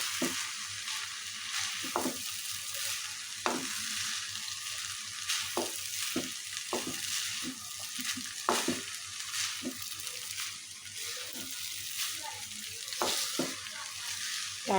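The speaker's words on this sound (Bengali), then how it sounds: "এখন আস্তে আস্তে করে সব কিছু মিক্স করে নিব।" Chicken fried rice with capsicum is stirred and tossed in a hot pan, giving a continuous sizzle broken by repeated scraping and clacking strokes of the spatula at an uneven rhythm, close by, with no voices.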